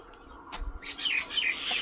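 Small chirps from a fallen white bird chick (muse chara), a few thin, high calls close by after a faint thump, quiet with no talk.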